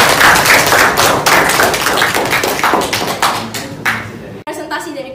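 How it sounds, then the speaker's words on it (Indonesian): An audience claps loudly and steadily after a student group presentation at UIN Imam Bonjol in 2023. The dense applause dwindles into a few scattered claps and then stops abruptly. "ya, berikan aplaus yang meriah."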